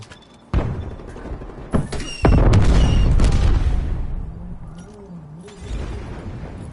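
FFAR rifle fired from the hip in Call of Duty: Black Ops Cold War gameplay: a few heavy booming shots and a sustained burst of gunfire with a long rumbling tail, loud and close.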